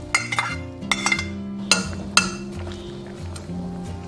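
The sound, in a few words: pot lid placed on pot of braised pork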